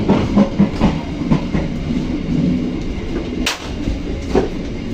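An economy class passenger train rolls along the rails, heard from inside the carriage: a steady rumbling ride with periodic clacks and knocks from the wheels, and one sharp bang near the end.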